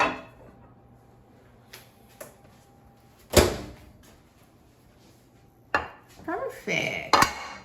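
Eggplant dish being taken out of a microwave: faint clatter of a dish and door, with a sharp clunk near the middle and a few more scraping, clinking knocks at the end, otherwise quiet.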